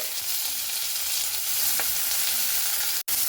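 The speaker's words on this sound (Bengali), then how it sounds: "পেঁয়াজটা এখানে লাল লাল করে ভেজে নেব।" Onions and black cumin seeds fry in oil for a fish curry, giving a steady close hiss with faint crackles that continues without break, apart from a brief gap near the end, and no one speaking.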